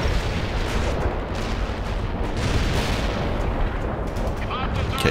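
Units trade sustained gunfire and explosions in a World in Conflict: Soviet Assault battle, a dense, continuous roar of shots and blasts with someone talking over it.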